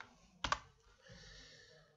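Someone types on a computer keyboard, producing a quick double click of keystrokes close by, followed by a faint, soft rustle of further light tapping at low volume.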